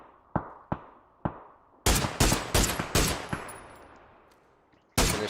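Rapid gunshots crack through a battle royale match in a college esports league game, three sharp single shots followed by a tight burst of fire and one final loud shot, each with a trailing echo, no talk.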